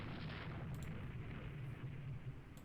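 Naval gunfire from warships in the Rule the Waves III naval strategy game, heard as a sustained low rumble of distant big-gun fire rolling steadily without pause, with faint sharper reports near the start and end.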